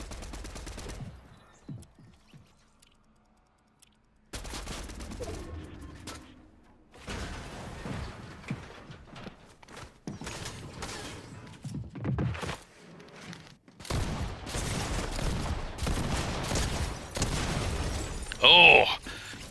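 Bursts of gunfire from a Fortnite ranked match, with sharp shots and rapid volleys scattered across the clip at varying distances, loud near the end, amid game ambience and a player talking.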